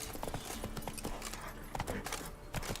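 Horse hooves in The Witcher 3 video game, a dense run of close, crisp clip-clop hoofbeats with uneven rhythm, as if the horse is trotting and stepping about.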